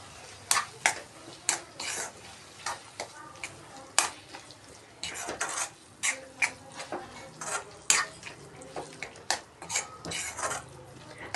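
A spoon stirs mashed eggplant bharit mixed with crushed peanuts in a pan. It makes a run of repeated clinks and scrapes against the metal in an irregular rhythm, close and moderately loud.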